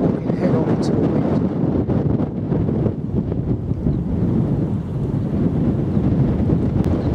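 Strong headwind buffeting the microphone continuously while walking a countryside path, a loud, rough roar with gusty swells and no pause.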